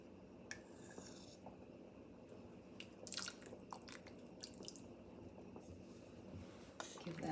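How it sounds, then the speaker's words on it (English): Turkey soup with sausage and beans is stirred after lemon juice is added, faint light clinks and soft liquid drips and sloshes from a spoon in the pot, quiet and close. "Give that a stir."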